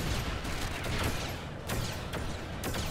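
Rapid bursts of gunfire in Lego Batman: The Video Game crackle repeatedly, dense overlapping shots with sharp transients, loud and continuous without talk.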